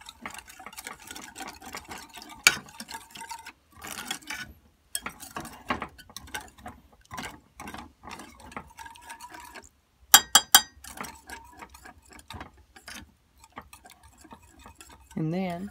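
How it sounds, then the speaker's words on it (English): A spoon or spatula scrapes and clinks around a pan of stove-top almond milk rice pudding in short, intermittent strokes, with a few sharper metallic taps standing out against a quiet background. "I'm going to stir it around."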